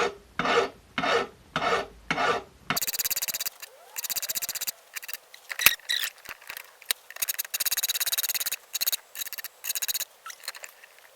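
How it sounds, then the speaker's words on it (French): A hand file rasps along the edges of a forged metal piece in steady back-and-forth strokes, each stroke a close, harsh scrape, in a workshop. "avec un angle d'à peu près 45 degrés, on va venir gentiment limer les arêtes dessus"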